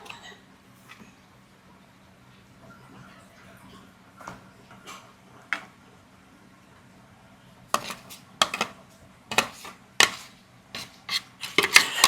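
Chicken being stirred in a bowl with a blended marinade that contains water, for terasi and lime-leaf fried chicken, giving scattered clinks and scrapes that turn into a dense run of sharp knocks near the end, over a low steady hum.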